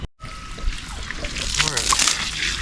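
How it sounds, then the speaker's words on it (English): Water is poured into a bucket on a Tennessee homestead, a brief sloshing, trickling pour lasting a couple of seconds, with a person talking over it. "I'm gonna mix a little water with that."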